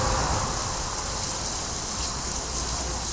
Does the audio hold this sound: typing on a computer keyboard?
no